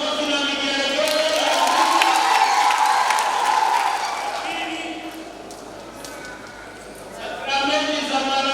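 Children and a church congregation at a first communion gathering in Arusha burst into applause and high ululation, rising to a loud peak and then tapering off.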